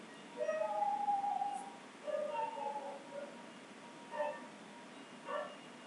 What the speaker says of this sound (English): That's my pet dog, Boozo, barking in the background.